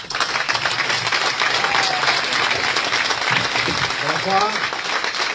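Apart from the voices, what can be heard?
audience applause for presenter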